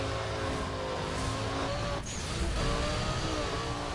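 A car engine drones in Burnout Paradise, a high, steady racing-game roar with a slight dip and shift midway, constant and close throughout, its tone likened to a Lexus LFA.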